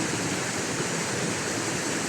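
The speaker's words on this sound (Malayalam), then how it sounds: "ഇതൊരു ചെറിയ വെള്ളച്ചാട്ടം എന്നാണ് ഇവർ പറയുന്നത്" A small waterfall on a stream beside a house in Grahan village, India, produces a steady, loud, unbroken rush of falling water with no voices over it.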